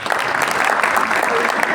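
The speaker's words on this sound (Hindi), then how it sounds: "तालियां ठीक से बजाओ।" Audience applause at a Republic Day program held at an Arya Samaj in Noida: steady, dense clapping from a crowd, fairly close and evenly sustained throughout with no pause.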